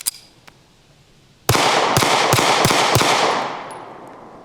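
A SCCY pistol suffering light primer strike malfunctions: after a faint click and short pause, five loud sharp gunshots ring out in quick succession at an uneven pace, each followed by outdoor echo that fades out at the end.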